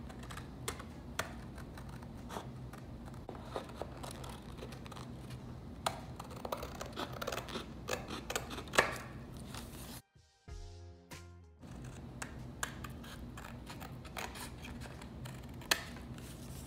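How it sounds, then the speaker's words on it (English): Scissors snip steadily through paper or card while cutting out a DIY lipgloss box, close and quiet, with a brief near-silent pause midway and no speech. "I'm going to just go ahead and cut this out"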